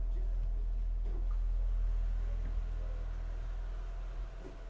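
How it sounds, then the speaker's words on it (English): A deep, steady engine drone from the open engine room of a Neel 51 trimaran rumbles throughout, dominated by low hum with a faint mechanical wash above it. "The noise you're hearing now is because the engine room door is open"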